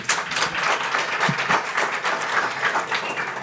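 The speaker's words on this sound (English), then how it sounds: "Maybe a last round of applause." Seminar audience at an indigenous knowledge event applauding in a steady round of clapping, dense and even throughout with no talk over it.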